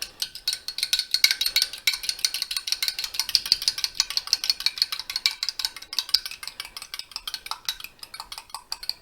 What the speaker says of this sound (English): Now let's go ahead and get those beat up real good.